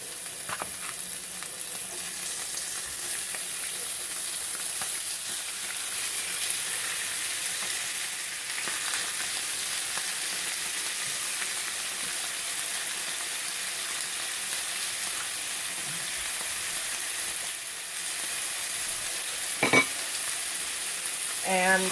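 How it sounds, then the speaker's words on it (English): Steak sizzles in a hot pan, a dense, even frying hiss that stays close and steady throughout, with a few faint clinks and stirring sounds along the way. "I'm going to start cooking my meat"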